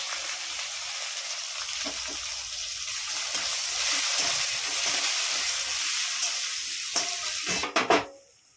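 Chopped onion dropped into hot oil already frying cumin, cloves, cinnamon, cardamom and egg for a Bengali murighanta, giving a steady, close hiss and sizzle with a few sharp spoon clatters near the end and no talk.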